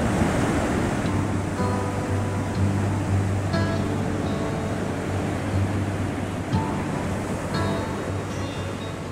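Ocean surf at Sunset Beach near Santa Cruz, a continuous loud wash of breaking waves with wind buffeting the microphone, steady throughout with no talking.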